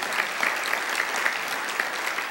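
Steady audience applause fills the whole stretch, dense even clapping at moderate loudness with no voices over it, from a crowd at a panel event.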